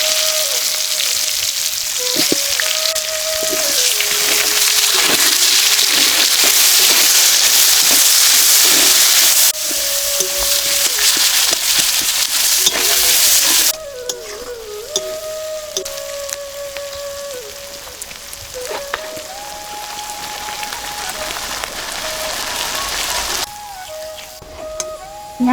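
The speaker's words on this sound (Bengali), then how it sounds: "ওই তেলে ফোড়নে দিয়ে দেবো গোটা গরম মশলা আর তেজপাতা। দিয়ে দেবো পেঁয়াজ কুচি।" Whole garam masala, bay leaves and chopped onion fry in oil with a strong, rain-like sizzling hiss that drops in level partway through, while a melodic tone plays over it.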